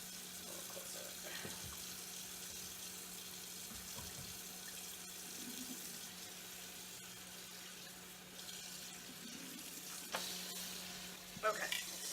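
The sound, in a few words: cold water running from a tap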